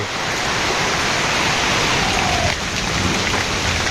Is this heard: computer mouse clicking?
no